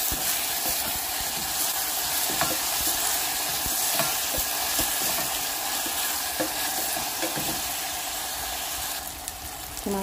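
Tomatoes and onions frying in oil in a pan, a loud continuous sizzle and hiss with scattered scraping stirs, close and steady.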